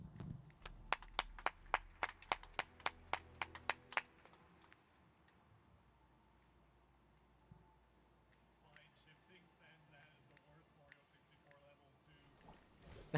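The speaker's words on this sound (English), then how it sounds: "We gotta clap." Audience applause at a live ReCore speedrun event at DreamHack Montréal 2018, a burst of sharp claps and cheering in the first four seconds that then drops away to a quieter crowd murmur with faint game sounds.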